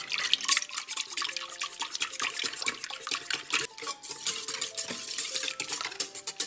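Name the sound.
whisk stirring ingredients in a bowl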